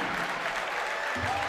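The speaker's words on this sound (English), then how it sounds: "As the Naugatuck crowd cheering loud for their Greyhounds." Fans at a boys' varsity basketball tournament final applaud and cheer loudly for the Naugatuck Greyhounds, a dense wash of clapping in a gym with a faint voice underneath.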